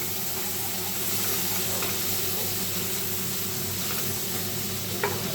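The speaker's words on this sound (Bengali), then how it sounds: "মরিচের গুঁড়া দিয়ে একটু নাড়াচাড়া করে নিব" Onions frying in oil with chili powder, sizzling steadily and loudly while being stirred, with a few scraping taps of the spoon against the pan.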